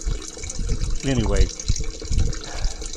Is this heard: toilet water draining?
yes